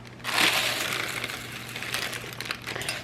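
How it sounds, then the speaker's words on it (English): A sleeve of Ritz crackers is crushed up close, producing a sustained crunchy, crackling rustle that starts strongly and keeps grinding on for a few seconds. "I have 1 sleeve of Ritz crackers. I'm gonna crush these up and get these into this butter"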